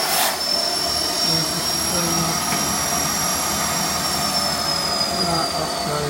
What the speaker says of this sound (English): So obviously when it was on the strongest setting it was quite hard to actually hoover because it's got quite a strong suction